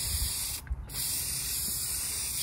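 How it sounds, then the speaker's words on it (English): Aerosol carb cleaner sprayed in a steady, loud hiss on a bowfishing boat's console and floor, with one brief break partway through before the spray resumes and runs continuously to the end. "Use some carb cleaner here."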